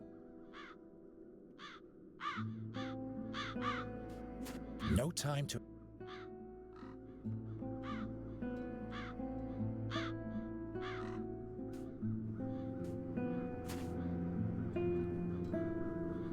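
Crows caw repeatedly in The Dark Eye: Chains of Satinav, sharp calls scattered over a sustained musical backdrop, with a character speaking briefly in the middle.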